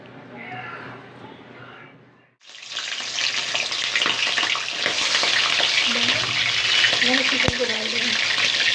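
Bay leaf drops into hot oil for a chicken curry. Quiet background talk gives way to a sudden bright burst of loud, steady sizzling and crackling up close, with someone speaking softly over it.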